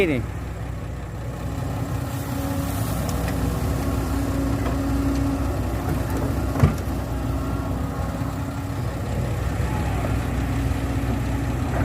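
A Kobelco SK140 Super X excavator engine idling at a pond-dredging site, a steady low mechanical hum that runs evenly throughout, with someone talking over it.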